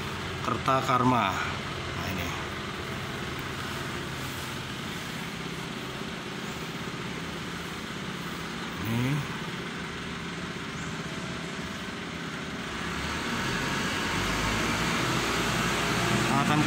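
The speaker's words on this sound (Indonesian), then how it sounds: "sorry suaranya agak tertutup sama suara mesin truk." A truck engine rumbles steadily through the whole stretch, a low mechanical drone with a person talking over it; the noise swells slightly near the end.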